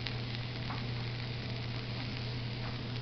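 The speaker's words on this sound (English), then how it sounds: "Those onions are starting to caramelize really nice." Onions caramelizing in a pan for an egg omelet give off a close, steady sizzle with soft crackles that run continuously under a low hum, no voices present.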